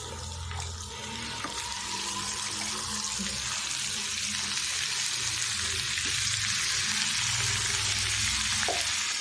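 Ginger fries in a pan for a chicken fry, a loud continuous sizzle and hiss close by with occasional stirring clinks, uninterrupted by talk.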